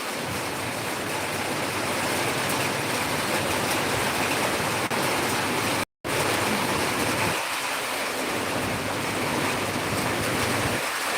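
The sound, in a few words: rain falling in Chennai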